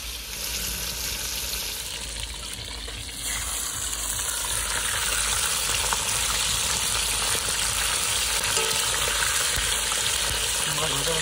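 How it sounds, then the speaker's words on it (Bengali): Rohu fish sizzles steadily in hot oil, a dense, close frying hiss that grows slightly fuller after a few seconds and holds without pause to the end. "তেল গরম হয়ে গেছে, এবার মাছটা দিয়ে দেবো।"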